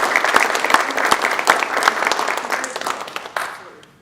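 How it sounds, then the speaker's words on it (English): Applause breaks out at a city council meeting, with sharp individual claps standing out over a crowd, loud at first and then gradually thinning and fading away. "Let's give them another round of applause"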